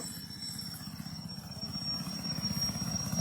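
An army helicopter flies over a village in Punjab, its rotor blades chopping in a steady, rapid rhythm that grows slightly louder and closer over a constant engine roar.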